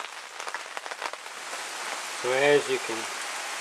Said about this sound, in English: the rain started coming down a lot harder, and it's raining pretty hard